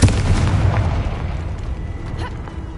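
A Confringo spell detonates in Hogwarts Legacy with a heavy, booming blast that hits at once and then rumbles and decays over a couple of seconds.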